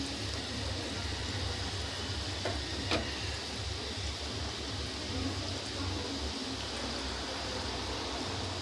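An egg fries in a pan over low heat for an egg chilli dish, giving a faint, steady sizzling hiss throughout, with one brief clink partway through.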